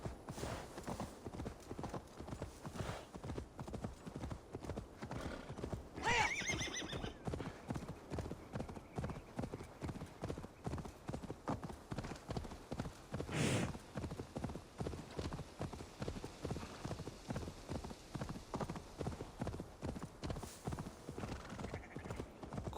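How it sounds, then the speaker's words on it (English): Horse hooves clip-clop steadily at a gallop in Assassin's Creed Valhalla, with a brief whinny partway through, the rhythmic hoofbeats running continuously at moderate loudness without talk. "Let's call our horse."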